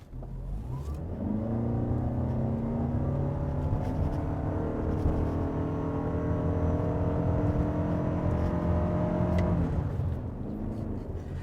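A 2022 Toyota RAV4 Edge Hybrid accelerates hard from a standstill to 100 km/h, its engine note climbing steadily in a sustained, loud rising drone with a brief easing near the end, heard from inside the cabin.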